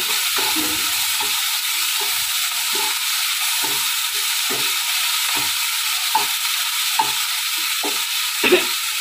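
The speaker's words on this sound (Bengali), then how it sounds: "তো লঙ্কা বাটাটা দিয়ে হালকা কষিয়ে নেব" Green chili paste and a little salt are sautéed in a small amount of oil for a khoira fish curry: a steady frying hiss with regular spatula clicks and scrapes against the pan, no voices.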